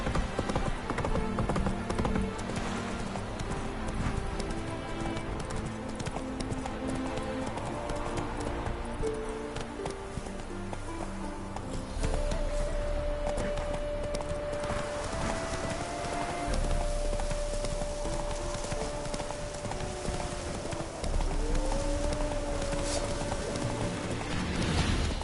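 Horse hooves clip-clopping in a video game, a rhythmic trot that picks up into a run, with a brief whinny and soft background music underneath.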